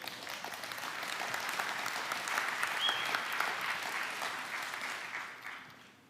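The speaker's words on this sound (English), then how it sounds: "That's an applause line right there" A church congregation breaks into applause that swells to a steady roar and then tapers off, with a few cheers carried in the crowd.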